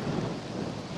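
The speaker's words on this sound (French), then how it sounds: "on a quand même pas mal de vent pour pouvoir contrer le vent" Wind buffeting a microphone outdoors during a Syma X5C drone flight, a steady loud rumble with no clear breaks.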